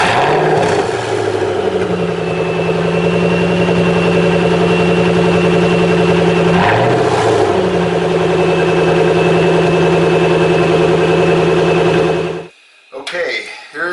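Ford GT engine started and idling to warm up after an oil change, a steady, close mid-pitched idle rumble with a brief rev near the middle, cutting off abruptly near the end.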